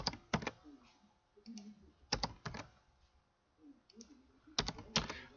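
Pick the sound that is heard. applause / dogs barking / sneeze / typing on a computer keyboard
typing on a computer keyboard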